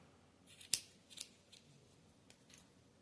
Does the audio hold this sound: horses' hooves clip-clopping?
no